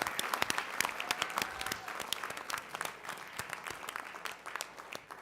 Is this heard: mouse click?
no